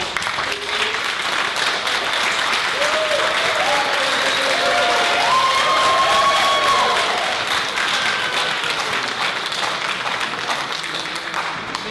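An audience at a council candidates forum applauds in a dense, sustained burst of clapping that swells slightly in the middle and carries on for several seconds.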